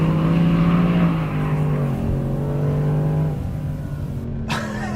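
Porsche GT3 RS 4.0 sports car with stability systems off, driving sideways and accelerating hard: a loud, close, sustained engine note climbing and holding, with a brief drop and renewed pull near the end.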